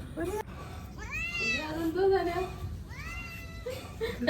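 A cat meows repeatedly, drawn-out rising and falling cries close by, alternating with a person talking.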